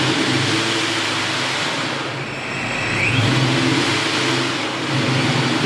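A car on a dyno revs hard while its tires spin on the rollers. The engine drone is loud and sustained, with a brief dip in the middle before it climbs again, and nobody speaks.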